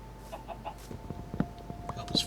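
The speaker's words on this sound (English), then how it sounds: "There's a chicken over there." A Minecraft chicken clucks in short scattered bursts while wandering a forest landscape in the game, moderately loud among light footstep-like taps and soft ambient noise.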